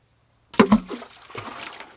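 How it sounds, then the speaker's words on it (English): A rock dropped down a freshly dug hole lands in the water at its bottom, making one sudden splash after silence, followed by a short trailing slosh and ripple. "Drop a rock."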